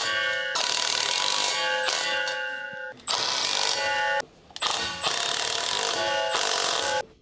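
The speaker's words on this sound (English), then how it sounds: "Using the large 15mm short socket, large short extension bar, and large electric impact wrench, tighten the drive shaft to rear differential retaining bolts." A large electric impact wrench with a 15mm short socket and extension drives drive shaft to rear differential bolts on a 2013-2018 Dodge Ram 1500, sounding as several loud, close rattling bursts separated by brief pauses.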